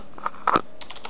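Keys clack on a computer keyboard while a search term is typed, a quick irregular run of close taps with a few louder strokes in the middle.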